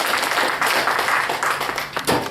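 An audience at a Korean seminar and thesis presentation claps for the presenter in a dense, sustained round of applause, loud and close, with no talking over it.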